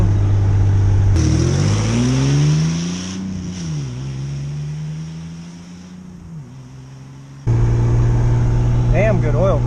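A car with a rebuilt Ford 3.0 Vulcan V6 engine climbs a hill in fifth gear, its steady droning hum rising and falling in pitch as load changes, with a voice talking over it.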